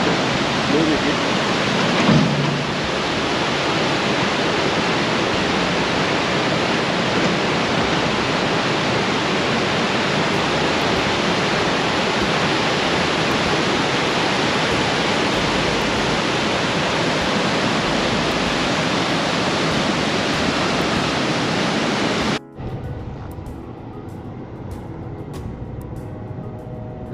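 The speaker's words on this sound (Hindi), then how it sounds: "ये पानी का, सिंध नदी का जो बहाव है" The Sindh river at Sonamarg rushes in a dense, continuous roar of water, loud and close throughout, then cuts abruptly to a much quieter background near the end.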